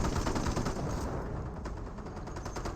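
Rapid gunfire from an infantry squad in a World War II battle in Company of Heroes 1, dense overlapping machine-gun bursts rattling continuously and loudly, with no voices.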